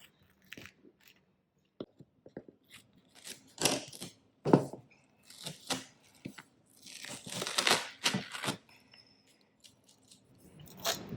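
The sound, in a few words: cutting a sheet of duct tape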